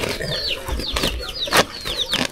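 Chickens cluck in a series of short, rising calls close by, several bursts spread over a couple of seconds with faint rustling and thuds between them.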